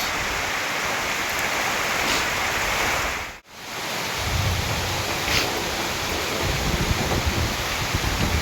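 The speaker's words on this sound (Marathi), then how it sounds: "अचानक किती पाऊस चालू झाला आहे बघा" Heavy unseasonal rain in May with strong wind keeps up a loud, wash-like roar that briefly cuts out for a moment partway through, then resumes with deeper gusty rumbling.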